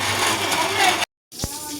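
An electric mixie grinds vada batter in a steady, whirring buzz, cuts off abruptly into silence, then starts up again with a brief thump and resumes its grinding hum.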